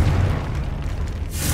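A Confringo spell blast from Hogwarts Legacy: a steady low booming rumble lasting a moment, with a brighter hiss building at the end, loud and alone.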